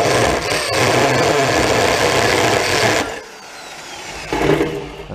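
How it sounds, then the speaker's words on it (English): Power drill boring out a rivet, a loud steady whine and grind for about three seconds that cuts off, followed by a quieter, brief burst of drilling. "you just simply take the drill and hit the rivet and it should come right off."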